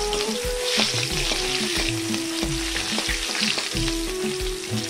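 Onion frying in hot oil with panch phoron in a home kitchen for an Assamese fish curry: a close, crackling sizzle with stirring knocks and a low hum running beneath it, and no voices.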